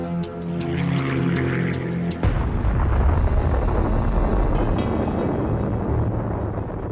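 Atomic bomb explosion over Nagasaki, heard as a vast continuous roaring rumble that swells in after a brief rhythmic lead-in and fills the whole stretch with dense, loud, distant-sounding thunder and no voices.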